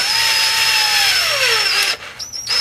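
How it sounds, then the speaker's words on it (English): A power drill drilling through metal on a Spyder differential whines steadily at high speed, its pitch sliding downward as it bites, then cuts off abruptly near the end with a brief restart. "I'll pretend that I'm still drilling."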